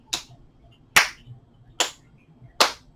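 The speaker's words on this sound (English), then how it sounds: "I'll do a little hand clapping for the count of 4" Four sharp hand claps, evenly spaced about 0.8 seconds apart, counting out a beat for a seated chair yoga breathing exercise; close and clear over a quiet room with no talking.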